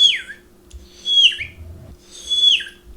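A human voice whistles an imitation of a parakeet call in three short, bright chirping bursts, each a high note sliding downward, evenly spaced and fairly close.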